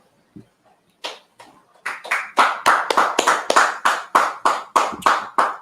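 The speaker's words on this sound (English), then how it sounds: "Clap it up." Hands clap alone, starting with a few scattered claps and settling into a steady, loud, evenly spaced rhythm of about a dozen sharp claps.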